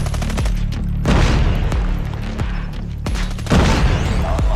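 A grenade blast and rapid gunfire from the Call of Duty Mobile video game, loud and continuous, with heavy booming bursts near the start and again later over a steady stream of shots.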